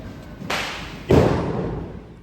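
Two sharp bangs about half a second apart during Diwali Lakshmi Puja, the second louder and boomier, each trailing off into a lingering rumble, like nearby firecrackers going off.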